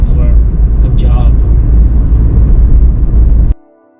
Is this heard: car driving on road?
yes